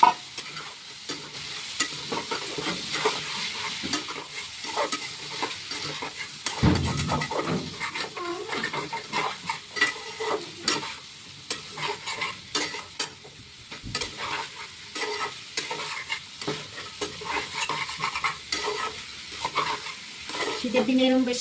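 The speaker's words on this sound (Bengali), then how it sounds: "আমি এবারে ডিমটা আলুতে ঢেলে দিচ্ছি।" Egg poured over spiced potatoes sizzles steadily in a frying pan while a utensil stirs and scrapes through it in continuous, uneven strokes.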